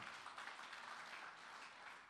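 Applause from a church congregation praising God during a sermon, a soft, steady wash of clapping that sounds distant and faint, continuing without a break.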